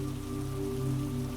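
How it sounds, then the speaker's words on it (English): Rain falling on greenhouse glass in a garden during a storm, a steady dense patter that stays even and continuous, with a soft low tonal hum running underneath. "Glass catching the rain."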